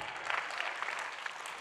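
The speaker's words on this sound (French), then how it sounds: "Applaudissements pour Marie-Noëlle Lienemann" Applause for a speaker at a French panel discussion on social housing, a steady wash of many hands clapping in a hall, fairly faint and even throughout with no talk over it.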